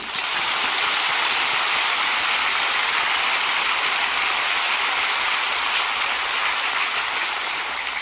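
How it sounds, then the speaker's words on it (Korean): Steady, dense applause from a large church congregation during a sermon fills the whole stretch without pause, even and sustained. "그러므로 우리 하나님께 한 박수를 치십시오."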